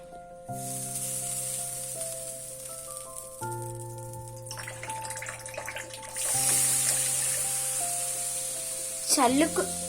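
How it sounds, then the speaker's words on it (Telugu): Water sprinkled onto a hot pan after an omelette is cooked hisses and sizzles steadily at moderate level, under a bed of sustained background music tones. "మీరు ఆమ్లెట్ తీసుకున్న తర్వాత పెంక మీద కొన్ని నీళ్లు చల్లుకోవడం మంచిది."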